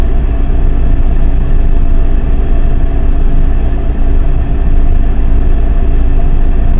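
A Jeep Grand Cherokee ZJ with the 5.2 L V8 runs close and loud, giving a continuous low engine rumble with a slight dip partway through and only mild rise under a little throttle.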